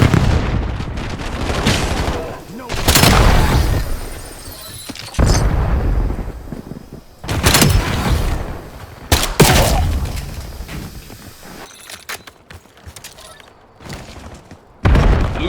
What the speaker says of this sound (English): Hostile grenade.